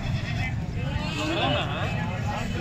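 Goat bleating at an outdoor livestock market ahead of Qurbani, a wavering call rising over a steady crowd babble and background noise.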